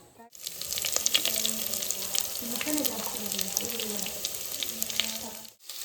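Onions tipped into squid frying in a pan give a steady, close hiss and crackle under a rushing, water-like wash that lasts several seconds before cutting off abruptly.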